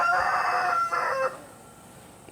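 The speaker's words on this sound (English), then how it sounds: "That's my rooster, big boy." A rooster named Big Boy crows loudly in two strong bursts, then the call trails off into quiet outdoor background.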